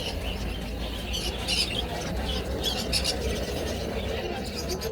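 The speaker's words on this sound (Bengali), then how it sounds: "এখানে কিছু আপনার জাভা ফিন্স পাখি সাথে কোয়েল পাখির সাথে রেখে দিয়েছে" Caged birds at a busy bird and animal market, including conures and Java finches, chirp and squeak in overlapping high calls over a constant crowd murmur.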